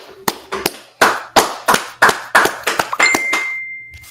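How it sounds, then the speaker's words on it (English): A small group claps in sharp, separate bursts at an Israelite School of Universal Practical Knowledge (ISUPK) gathering. The claps are loud and close, uneven in rhythm and about a dozen in all, with a sustained tone ringing out near the end. "All right, let's clap it up."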